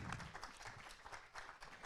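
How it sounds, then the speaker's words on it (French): An audience at the MT180 2022 regional final applauds a contestant, a soft, fluttering patter of many hands, quiet and somewhat distant, with small swells. "on l'applaudit très fort"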